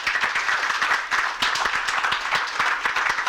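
A crowd at the Cleveland Public Library Brooklyn Branch grand opening applauds the architects, steady close clapping with sharp individual claps standing out, continuous for the whole stretch.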